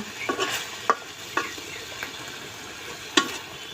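Broiler chicken meat cooking in a pan, releasing its own oil as it is braised with garlic: a low, soft sizzle under a few sharp scraping stirs and clacks of a spoon, close up, with no talking.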